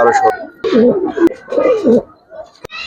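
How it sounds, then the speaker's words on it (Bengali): Male pigeons of the Giribaz and colouring breeds, kept for sale, coo in soft, throaty, repeated phrases at close range, with a few sharp clicks between the calls. "দুটো নর কবুতর দেখাই ভাই"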